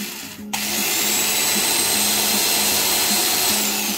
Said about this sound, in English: sorry for the loud drill noise